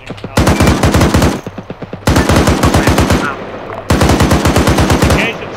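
Vehicle turret machine gun in a military video game, firing three long, loud, rapid bursts separated by short pauses, each a dense rattle of shots heard up close.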